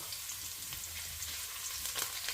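Ginger frying gently on low heat in a pan for chicken manchow soup, a soft steady sizzle with faint crackles running alone throughout, fairly quiet and close.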